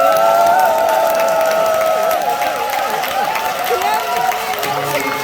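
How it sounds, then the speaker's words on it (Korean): A large crowd at a launch ceremony erupts in applause and cheering after a keynote speech, loud and sustained throughout, with a voice heard over the crowd. "이 장소가 떠나갈 정도로 커다란 박수 함성을 부탁드리면 어떨까요?"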